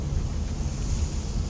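Ocean waves washing onto the Malibu shore a few feet away, a steady broadband surf roar mixed with rumbling wind noise on the microphone, with no one speaking.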